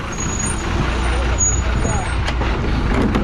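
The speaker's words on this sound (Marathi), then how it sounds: "फायनली गाडी आली आपली ही जाते आळे फाटा" A large state transport bus engine rumbles nearby with a hiss of brakes as it arrives, while people talk over the steady vehicle noise.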